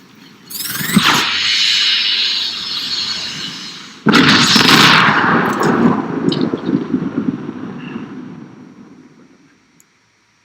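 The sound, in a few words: gunfire and explosions in The Machines AR video game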